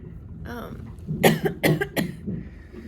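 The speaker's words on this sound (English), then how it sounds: "can you hear me coughing?" A voice, then a short burst of several harsh coughs close to the microphone from a woman in labor, followed by quiet breathing.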